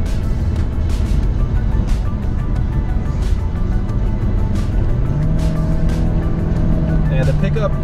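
A 2016 Scion iM engine hums steadily inside the cabin on a test drive, its pitch rising as the revs climb, with road noise throughout and someone talking over it.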